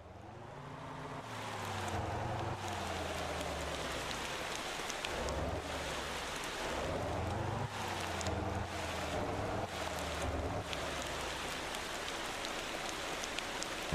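Rain pours steadily in the video game Motor Town: Behind the Wheel, a dense even hiss heard alongside a low droning engine hum that rises and falls, with no talking.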